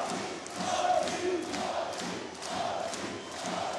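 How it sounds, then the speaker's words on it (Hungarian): A handball crowd at Oltchim Valcea versus Győri Audi ETO KC, on its feet chanting the home team's name in a steady rhythmic swell of many voices, filling the arena. "A közönség pedig felállva skandálja a hazai csapat nevét."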